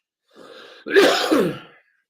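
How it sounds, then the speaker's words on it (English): A single close throat-clearing cough, a short rasp followed by a louder burst, then silence. "excuse me, I'm going to cough."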